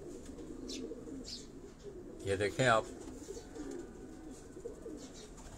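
Pigeons in small rooftop cages in Defence, Karachi, give soft cooing in the background while someone talks nearby.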